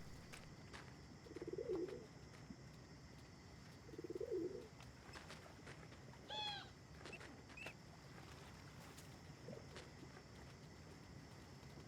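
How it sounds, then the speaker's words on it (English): A pigeon coos in the video game Endling, soft low calls repeating at intervals over a faint ambient background, with a few brief chirps and clicks in between. "Pigeon. I hear it."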